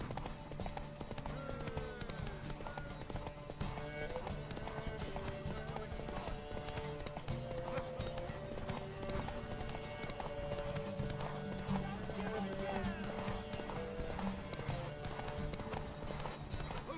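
Horses galloping in The Witcher 3: Wild Hunt, a steady run of rapid hoof clip-clops with an occasional whinny, continuous and even throughout the race.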